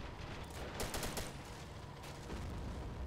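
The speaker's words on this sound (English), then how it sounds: "Whoa, explosion." Explosions and gunfire in a Red Rising mod battle with tanks advancing, a dense, loud burst of blasts with sharp bangs clustered near the start and another around the end, over continuous combat rumble.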